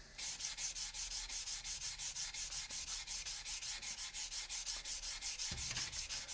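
Turned wood spinning on a lathe being sanded with the grain using 400-grit sandpaper for a pop box, a steady soft rhythmic rubbing hiss pulsing evenly throughout, quiet and close with no talk.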